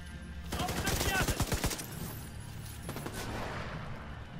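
Enemy gunfire rattles in The Division 2, a fast burst of rapid shots followed by a second, quieter volley, loud and close, with a voice talking faintly alongside.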